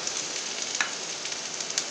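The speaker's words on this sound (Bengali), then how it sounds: "পুরো ডালটা দিয়ে দিলাম কড়াইতে, এরপর একটু ভাজবো।" Ground lentil paste frying in a wok for dal puri, a dense continuous hiss of sizzling with a few faint crackles and spatula scrapes.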